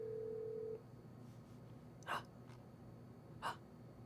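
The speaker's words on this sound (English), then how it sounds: "Oh, it's ringing!" Telephone ringback tone on a call to a U.S. Court of Appeals office: one steady electronic tone at the start, then a quiet line with two short breathy noises and no talking.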